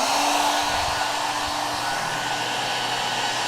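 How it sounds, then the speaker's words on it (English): A hair dryer on its highest setting, drawing about 1,314 watts, blowing a steady loud airy roar with a faint motor whine, no voices. "turn this hair dryer straight up the highest mode"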